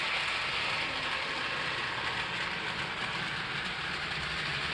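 Model train running under PLC throttle control at a steady 50% setting, climbing a grade; a continuous, even mechanical whir and rail hiss close by, no talking.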